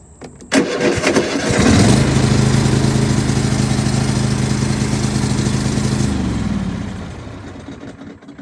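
A Cub Cadet lawn tractor engine cranks and then fires up, rising into a loud, close, steady engine roar for several seconds before it fades and winds down.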